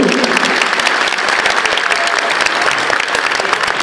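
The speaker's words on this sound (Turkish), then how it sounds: "Şöyle ikimize kocaman bir alkış alıyorum." Loud, dense applause from a studio audience, many hands clapping continuously and evenly for a few seconds with no voices over it.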